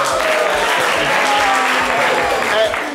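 Audience applause in a radio studio during a live broadcast show, a dense, steady wash of clapping lasting the whole moment, with voices and crowd noise mixed in.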